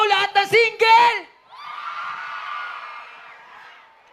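After a singer's spoken line, a concert crowd answers with a burst of shouting and cheering that swells and fades over a few seconds.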